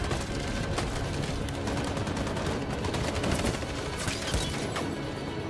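Dense, continuous gunfire from the video game Detroit: Become Human, a busy wash of shots and clatter at moderate level with no clear gaps, no voices heard over it.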